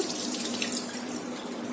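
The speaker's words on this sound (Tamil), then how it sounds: "கொஞ்சம் கம்மியாகவே தண்ணியை ஊற்றி குக்கரை மூடி போட்டு" Water is poured into a pressure cooker holding cut eggplant for a Tamil-style mashed eggplant dish, making a steady, continuous splashing rush with no voices.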